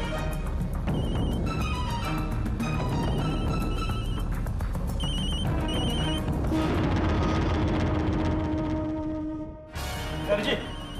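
A repeating electronic phone ring chirps over busy background music, with a voice cutting in near the end.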